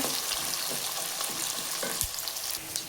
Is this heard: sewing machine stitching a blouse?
no